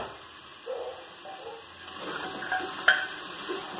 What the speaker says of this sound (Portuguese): Já tá fritando o alho e a cebola